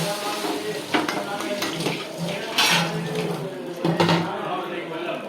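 A metal spatula scrapes and clanks on a pan while flipping an adai uttapam made without onion, garlic or rice, over a soft sizzle, with a few knocks and talk mixed in.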